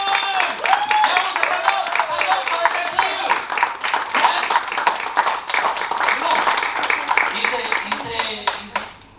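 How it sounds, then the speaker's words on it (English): Audience applause at a business growth strategies event in London, a dense, steady patter of clapping that holds through most of the stretch before tapering off at the end. "So all of you give a big applause to the amazing Jabu Salton!"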